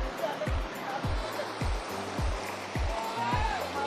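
A stream flowing near Siddhanakolla temple outside Belagavi gives a continuous broad rushing of water, close by, with regular soft low thumps repeating about twice a second underneath.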